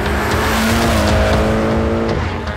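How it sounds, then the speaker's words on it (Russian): A Mitsubishi Lancer Evolution accelerating hard in second gear, its engine note climbing steadily as a loud, close rising whine over a gritty rumble for a couple of seconds before settling. "Тут даже сейчас просто невероятный разгон."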